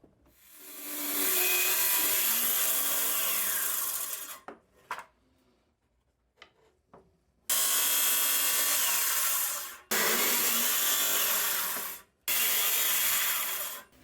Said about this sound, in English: I then set my blade depth for the circular saw and set up a rough fence to keep the cut straight